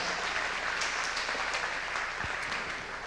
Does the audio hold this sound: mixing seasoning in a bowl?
no